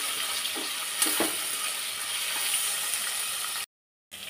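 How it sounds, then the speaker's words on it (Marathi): Chopped onion fries in hot oil in a pan for Khandeshi khichdi, a loud, steady sizzle with a few stirring scrapes, then a brief silence and the sizzle resumes. "कांदा अगदी हलकासा गोल्डन ब्राऊन होईपर्यंत परतून घ्यायचा आहे"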